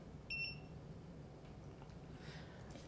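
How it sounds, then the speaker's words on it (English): A handheld microchip scanner gives one short, clear electronic beep while scanning a dog, faint and alone in a quiet room. "that beep indicated I've got his chip number"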